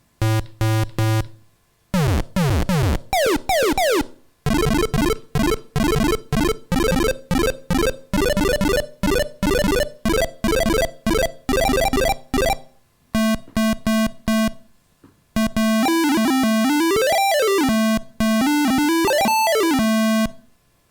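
A series of electronic tones from an Arduino-built synthesizer in short bursts: stepped beeps, rapid arpeggios, and warbling pitch sweeps, loud and close with brief silent gaps.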